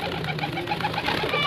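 An older pair pigeon coos softly and continuously for a moment up close.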